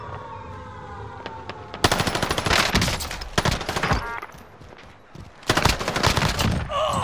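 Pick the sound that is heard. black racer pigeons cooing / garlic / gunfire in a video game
gunfire in a video game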